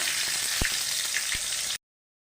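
Ingredients fry in oil in a pan, tomato among them, with a steady loud sizzle and a few soft taps of a stirring utensil before the sound cuts off abruptly.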